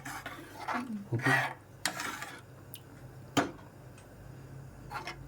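A metal lid clanks onto a cooking pot for a potato egg curry, a few sharp close clinks and scrapes with quiet pauses between.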